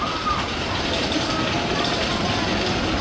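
Steady, broad rumble of an amusement park ride train at Worlds of Fun with a constant noise wash and faint mechanical tones, holding level throughout without clear breaks.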